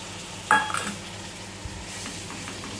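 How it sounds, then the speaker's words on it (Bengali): Chicken curry spice paste of turmeric, chilli, cumin and coriander powder mixed with water, sautéing in a pan with a soft steady sizzle, a sharp metal spoon scrape and stir near the start, and quieter stirring afterwards, with no talk. "সব কিছু দিয়ে মশলাটা এখন কষানো হচ্ছে"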